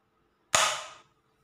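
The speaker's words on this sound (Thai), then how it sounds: "เดี๋ยวผมจะยิงให้ดูนะครับ" A folded origami paper machine gun fires a single sharp snap at close range, a quick crack with a short hissy tail in an otherwise quiet room.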